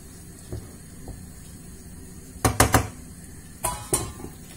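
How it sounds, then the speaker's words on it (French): A lid placed on a frying pan of simmering chicken kefta tajine sauce: a few sharp metallic clanks in two quick clusters over faint background hum. "Je vais la couvrir et je vais la laisser bien cuire tranquillement."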